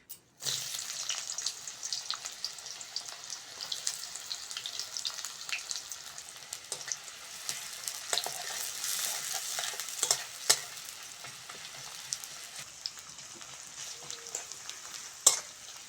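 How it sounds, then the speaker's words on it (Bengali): Chopped onions frying in a pan for a cauliflower and egg dish, a constant close hiss of sizzling with scattered sharper crackles and occasional clicks of stirring, steady throughout with no voice. "প্রথমেই দেব কুচনো পেঁয়াজ।"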